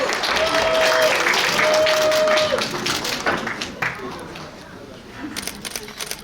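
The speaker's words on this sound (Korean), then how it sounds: "자 여러분 박수로 환영을 해주시길 바라겠습니다." Applause from an awards ceremony audience, loud massed clapping that swells at the start and then gradually thins and fades, with crowd noise and camera shutter clicks scattered through it.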